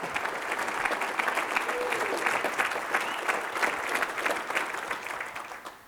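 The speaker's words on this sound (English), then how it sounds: "So another round of applause for Bernie" Audience at a community wellness forum applauding former quarterback Bernie Kosar, a full, even round of clapping from a crowd indoors that fades slightly at the close.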